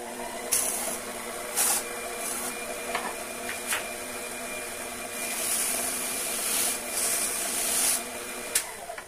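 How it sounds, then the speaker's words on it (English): Aluminum cooling fins for a hot air engine are deburred by hand, giving short, repeated scraping and rasping strokes close by, in uneven bursts with brief pauses between them. "Now I take one at a time, and I get the burrs off the edges."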